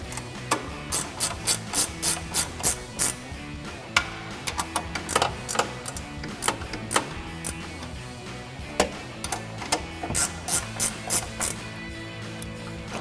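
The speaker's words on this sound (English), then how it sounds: "Grab our ratcheting wrench and tighten them down" A ratcheting wrench tightens 15mm nuts on a Toyota Tacoma suspension lift, with quick close clicks in repeated bursts over a steady background.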